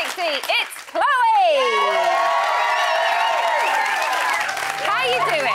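A television studio crowd cheers, whoops and applauds loudly for the third evictee of a reality show, with shrieking voices rising above sustained clapping throughout.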